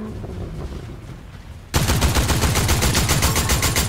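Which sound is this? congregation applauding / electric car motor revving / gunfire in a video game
gunfire in a video game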